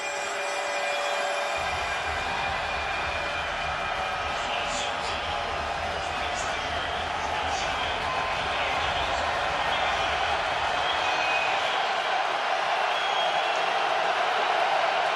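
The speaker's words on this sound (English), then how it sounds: "Crowd in full throat." A stadium crowd roars steadily at an Eagles–Bears NFL playoff game, the Wild Card round in Chicago, a dense, continuous wall of cheering that holds loud throughout, with a sports commentator's voice faintly over it.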